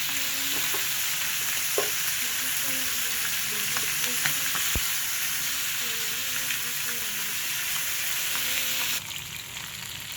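Chicken leg pieces fry in hot oil for a roast, a loud, continuous close sizzle with scattered pops and spatters, a faint tonal hum underneath, and the hiss dropping slightly near the end.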